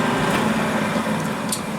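A lathe parting tool slicing through 303 stainless steel, a steady dense machining whine with a low motor hum running continuously and evenly throughout, loud and close with no pauses.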